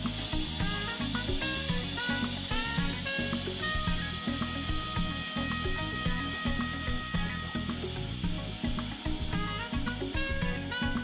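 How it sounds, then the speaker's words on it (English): An Instant Pot cooking pig feet vents steam in a steady, loud, unbroken hiss, with a rapid rattling pulse underneath that runs the whole time and has no talk over it. "So we're just waiting for the steam to finish"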